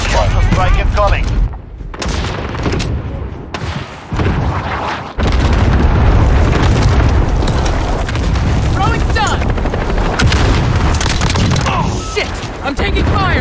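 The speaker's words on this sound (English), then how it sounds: "Allied cluster strike incoming!" A cluster strike lands in Modern Warfare multiplayer as a run of loud, heavy booms and rumbling blasts, one after another, with brief gaps between impacts and game voices calling out over the barrage.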